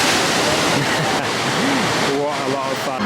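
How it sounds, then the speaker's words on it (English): A log flume ride at Universal Orlando sends a heavy rush of splashing water, a continuous loud wash of spray, with people talking and calling out over it. "They're getting drenched. It is just, this is such a cool ride. It's so well themed for a log flume as well."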